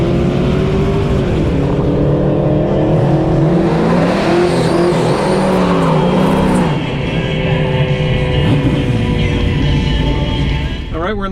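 A 1969 Camaro with a 427 on nitrous and full slicks is lined up against a Tesla Model S Plaid at a drag strip, giving a loud, continuous engine roar with rising revs, while someone talks over it.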